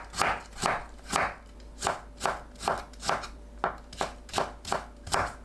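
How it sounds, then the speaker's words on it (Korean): A knife julienning burdock root chops steadily on a board, about a dozen crisp, evenly spaced strokes in a brisk rhythm, close and clear with no voices. "껍질 손질한 우엉은 10cm 길이로 채 썰어 주세요."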